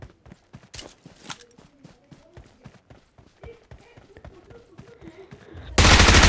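Gunfire in a battle royale video game, a run of sharp repeated shots and bursts over game sounds, ending in a loud sustained burst, with a voice talking throughout.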